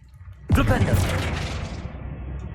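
A Flipendo spell cast in Hogwarts Legacy hits hard and sudden with a booming, crackling burst. A broad rumbling tail decays over about two seconds while speech plays faintly underneath.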